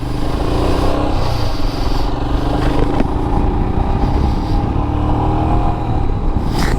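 A Royal Enfield Himalayan motorcycle, fitted with a booster plug and an AIS delete, idles close by with a steady, throbbing engine note that wavers slightly throughout, with no one speaking.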